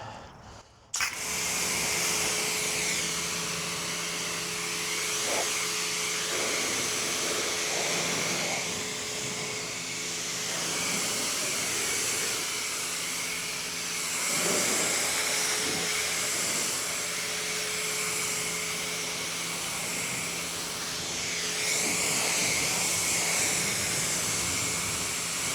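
A pressure washer sprays water to rinse foam off a car, a steady loud hissing roar that runs without a break from start to end and rises and falls a little as the jet moves.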